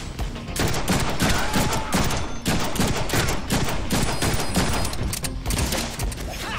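Dense, continuous gunfire from a Deadpool video game fight, rapid overlapping shots rattling loud and close for several seconds without pause.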